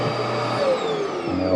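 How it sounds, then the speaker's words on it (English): The built-in central vacuum system of a 2023 Palomino Columbus 329DV RV runs with a steady, loud motor whine and airflow roar, its pitch shifting slightly as it operates, with no talking. "vacuum system. All we do is lift up."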